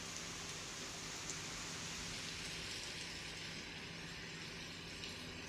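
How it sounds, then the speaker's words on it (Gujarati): Heavy wind-driven rain over villages in Gujarat, a steady dense hiss of downpour that holds unbroken and fairly loud throughout, with no voices. "આ તમામ વિસ્તારોમાં વરસાદ વરસ્યો છે"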